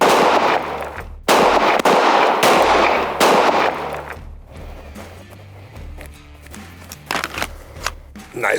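Gunshots fired into a wall of aerated concrete, a rapid series of loud sharp cracks in close bursts, then quieter debris and shuffling after the firing stops.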